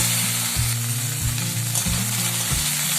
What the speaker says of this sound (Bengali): ঢ্যাঁড়স আলু ভাজা করছি, ভাজা প্রায় হয়ে এসেছে